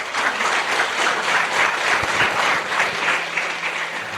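Congregation at a church service bursts into sustained, steady applause, many hands clapping together in a dense, even wash for the whole stretch.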